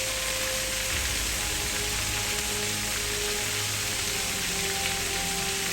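Steady rain falls in the morning during a solo trek across Madeira, a dense, even hiss of drops on surfaces that holds unbroken throughout with no voices.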